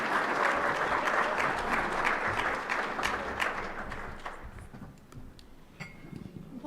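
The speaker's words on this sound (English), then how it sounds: "give a round of applause to our wound care panel." An audience claps for a wound care panel at a conference, dense steady applause that thins and fades toward the end, leaving scattered claps and a faint voice.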